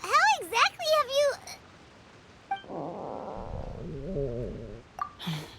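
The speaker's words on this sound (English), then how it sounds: "That would be my stomach growling." A long, low, wavering stomach growl sounds in a Genshin Impact scene, bracketed by bright, sing-song character voices before and after.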